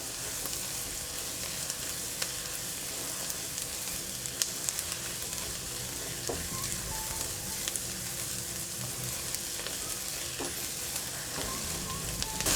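Turmeric powder frying in hot oil in a pan, a continuous close crackling sizzle with scattered small pops and faint stirring, steady throughout with no voices.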